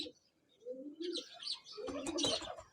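Pigeons kept at a club where racing pigeons are sold make soft, low coos and brief chirps nearby, faint and intermittent, with a light rustle toward the end.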